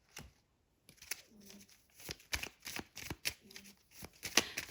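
Tarot cards are shuffled by hand and laid down close by, a quiet run of papery riffles, slaps and flicks that starts after a brief pause.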